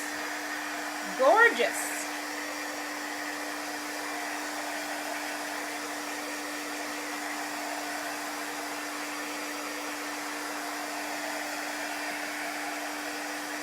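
A hair dryer blows steadily on a freshly made chalk-paste craft piece, a Halloween pumpkin and gourd cut-out design, with a constant whooshing hum running the whole time and a brief spoken remark near the start.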